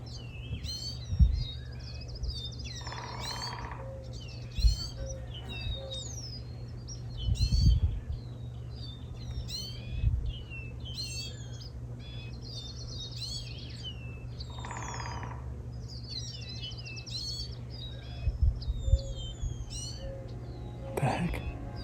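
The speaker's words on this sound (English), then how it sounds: "It's a bird. Oh, it's a baby." A baby bird gives thin, high chirps scattered across a quiet outdoor setting on a ranch, with soft voices and rustling in between.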